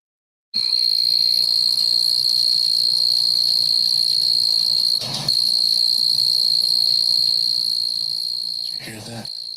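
Dense, steady cricket chorus on a summer night in Tennessee, loud and continuous with a sharp high drone throughout, briefly broken by a couple of soft knocks near the end.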